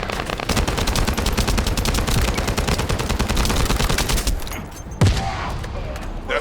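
Sustained rapid gunfire with bursts of automatic shots from a sci-fi shooter game, loud and continuous for several seconds before thinning out, with a single sharp impact near the end.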